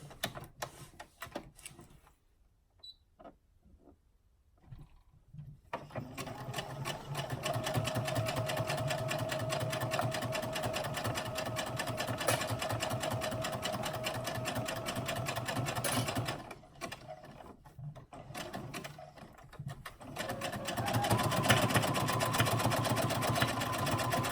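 A sewing machine stitches a 3/8 inch seam through layered fabric, running in steady rapid bursts of loud mechanical whirring, with a quiet stop-start opening and a short pause midway.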